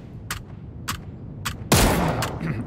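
Gunfire in the PUBG battle royale game: three single cracking shots at steady intervals, then a loud, sustained burst of rapid fire that fills the rest of the moment, with no talking.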